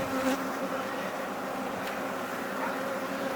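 A honeybee swarm pours out of a hive in a backyard apiary, filling the air with a dense, continuous buzzing hum from many bees close by, steady for the whole stretch.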